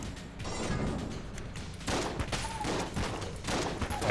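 Rapid enemy gunfire from the video game Enter the Gungeon, dense overlapping volleys of shots that fire continuously and loudly, with a brief lull before a renewed burst.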